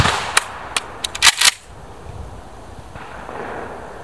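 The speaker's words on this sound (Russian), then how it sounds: "Герман сейчас продемонстрирует это все с выстрелом." Pistol shots crack out during practical shooting training, a few sharp reports in quick succession over the first second and a half, followed by quiet background.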